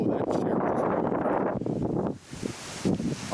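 Strong wind gusts buffet the microphone outdoors, a dense, steady roar that eases briefly near the end before surging back.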